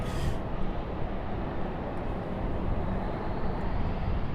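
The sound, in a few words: airliners departing RDU airport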